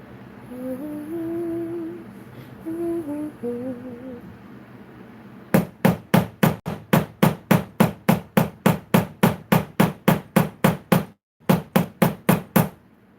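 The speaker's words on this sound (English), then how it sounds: "loud hammering with the nylon side" A voice talks briefly, then the nylon side of a hammer pounds in a fast, steady run of about twenty loud blows, with a short pause before a few final strikes.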